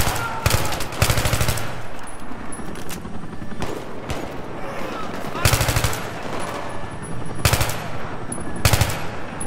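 Loud machine-gun bursts from the Battlefield 3 video game tear out in repeated volleys, with sustained automatic fire rising and falling between short pauses.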